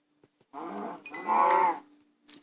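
Cows mooing in the Minecraft video game, two close, clear low moos in quick succession with near silence around them.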